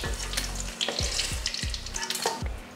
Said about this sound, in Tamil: கத்திரிக்காயை வதக்கி எடுத்தாச்சு.